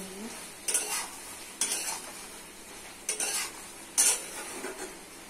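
Taro, eggplant, potato and dried shrimp curry stir-fried in a pan, with four separate scraping stirs of a metal spatula over a soft sizzle. The sound is close and has no voices.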